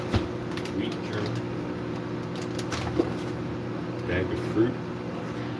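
A loud microwave oven runs steadily close by, a constant mechanical hum and whir, while a person talks over it and the occasional clunk of handling food items is heard.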